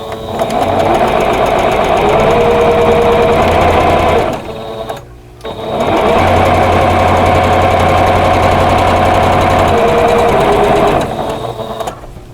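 Sewing machine stitching a vintage quilt block with 60 weight thread at a 2.0 stitch length, running loud and steady in two long bursts with a brief pause between them, close by with no talk.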